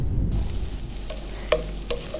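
Bitter gourd fries in oil with turmeric, coriander powder, cumin powder and salt, giving a soft steady sizzle broken by a few sharp clinks and scrapes of stirring, with no talk.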